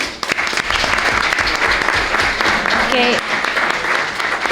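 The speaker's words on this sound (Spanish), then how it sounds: "vamos a pedir un fuerte aplauso para la primera ponente" Strong applause from the audience at a business planning panel as the first presenter is welcomed, thick and sustained throughout, with a voice briefly heard over the clapping.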